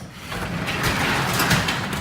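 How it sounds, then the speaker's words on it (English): A garage door rolls open in a steady, continuous mechanical rumble and rattle that lasts throughout, fairly loud and close, with no talking. "Garage door's up."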